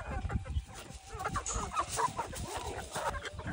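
Full-grown backyard chickens clucking and chattering close by, a busy run of short overlapping clucks with a few higher squawks, no talk.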